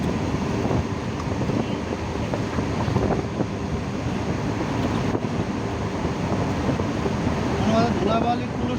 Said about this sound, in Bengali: নদীর মাঝখানের বাতাস